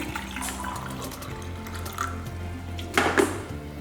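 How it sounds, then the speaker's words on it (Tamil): Lukewarm water trickles and splashes from a vessel into white flour for sweet and savory adai batter in a home kitchen, a short soft pour rising briefly near the end, with faint clinks of dishes and background tones. "இந்த தண்ணியை கொஞ்சமாக ஊற்றிக்கலாம் அதில்"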